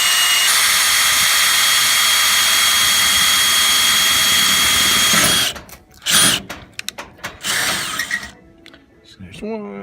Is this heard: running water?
no